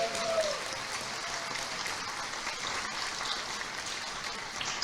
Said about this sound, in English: A big round of applause for Father Gary Goyeau.